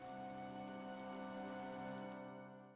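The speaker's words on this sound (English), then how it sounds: "The rain is really coming down now." Heavy rain pours steadily in Fire Emblem: Three Houses, a dense continuous wash laid over sustained tonal game music, fading slightly near the end.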